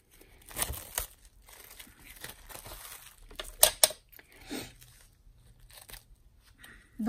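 Cellophane wrap is handled and crinkled up close in short, crackling bursts separated by quiet gaps.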